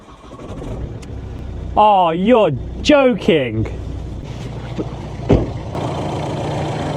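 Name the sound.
old 406,000-mile Ford car engine being started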